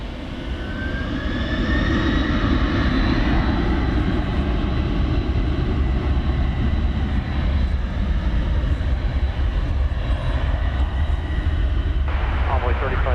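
A heavy UPS cargo jet, Flight 793, departs DFW Airport. Its engines give a loud, sustained roar, and a voice talks over it.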